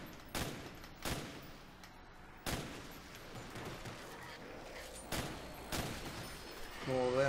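Pistol shots from a Call of Duty Black Ops Zombies match on Nacht der Untoten, a handful of sharp cracks spaced about a second or more apart, each ringing briefly before the next.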